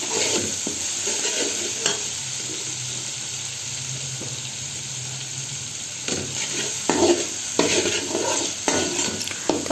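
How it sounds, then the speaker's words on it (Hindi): Ground spice masala with turmeric and salt fries steadily in a pan for a tinde (apple gourd) curry, a continuous close sizzle broken by repeated scraping stirs that grow busier near the end. "थोड़ा सा मसाले को भी अच्छे से भून लीजिएगा।"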